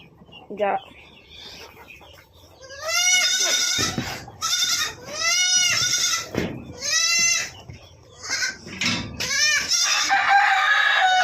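Several chickens cluck and a rooster crows repeatedly, loud and close, with goats bleating among them in a busy farmyard that also holds turkeys and Kadaknath chickens.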